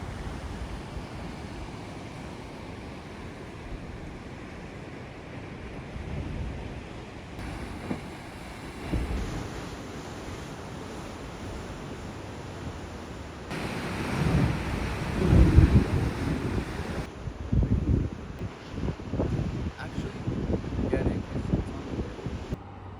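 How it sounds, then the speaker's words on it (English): Seawater rushing and churning into Thor's Well, a natural sinkhole on the Oregon Coast at high tide, a roaring wash that builds and surges loudly in waves, with wind buffeting the microphone. "at high tide, it creates a dramatic display of seawater rushing into the hole"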